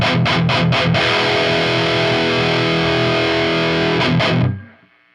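Electric guitar run through a Lichtlaerm Audio Aquaria Overdrive v2 pedal, heavily distorted: a few quick muted chugs, then a long sustained saturated chord ringing out, a second burst of chugs, and a fade to silence.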